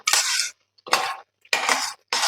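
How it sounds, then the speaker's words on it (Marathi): Whole masoor lentil curry, dhaba style with red chilli masala, salt and coriander, being stirred in a pan: four close, scraping mixing strokes in bursts, with brief quiet gaps between them and no voices. "आता हे सगळं व्यवस्थित मी मिक्स करून घेत आहे"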